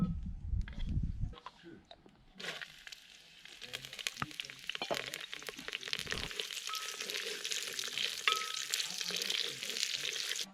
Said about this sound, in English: I'll just heat up some olive oil